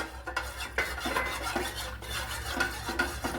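Custard milk pudding mixture being stirred in a pan, with a spoon scraping and clinking against the metal in a quick repeated rhythm. The stirring is close and moderately quiet, and no one speaks.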